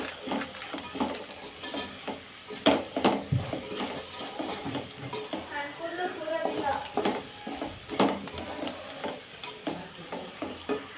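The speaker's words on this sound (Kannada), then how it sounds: "ಗೊಜ್ಜಿಗೆ ನೀಟಾಗಿ ಒಂದು ಮಿಕ್ಸ್ ಮಾಡ್ಕೊಳ್ಳೋಣ ಇದನ್ನು" Gojju sauce for vangi bath being stirred and mixed in a pan, with soft scraping and clinking strokes repeating at an uneven rhythm over a faint sizzle, close and moderately loud.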